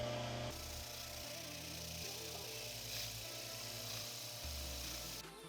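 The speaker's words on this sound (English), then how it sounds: "Now I'm going to give this brass wire wheel a shot." Brass wire wheel on a power tool scrubbing cast aluminum from a dirt bike, a steady close whirring and brushing hum that shifts in pitch as pressure changes, alone without talk.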